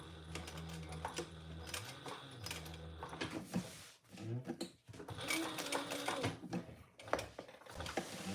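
A sewing machine back stitches a trifold wallet in short bursts, its whirring starting and stopping several times with brief gaps and small handling noises, fairly quiet and close.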